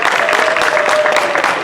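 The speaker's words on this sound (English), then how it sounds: "Y'all give her a round of applause for Sister Earlise Taylor" A festival kickoff crowd at Manassas High School claps loudly and densely in a steady, continuous burst of applause.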